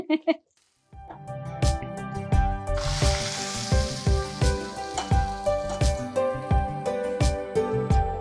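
Curry leaf tempering sizzles steadily in hot oil in a pan while someone talks continuously over it.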